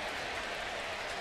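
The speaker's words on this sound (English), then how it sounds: "got a little golf clap here from Cardinals fans after that play" Cardinals fans at a baseball game give brief, light applause after a good defensive play, a steady patter of many hands clapping through the ballpark.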